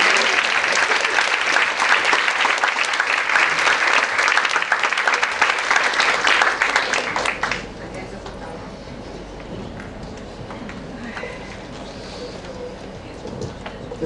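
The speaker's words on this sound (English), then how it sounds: "And we clap for these translators." An audience at a talk on intersectionality and social justice gives a loud round of applause for the translators for about seven seconds, then it drops away to quieter room noise with a few scattered sounds.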